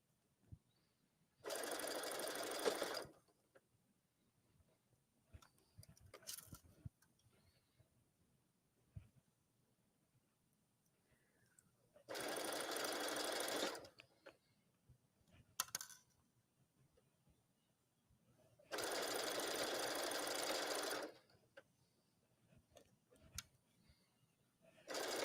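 A sewing machine stitches fabric for a twisted collar in three separate bursts of rapid stitching, each a few seconds long. Quiet handling noises and small clicks fill the gaps between runs.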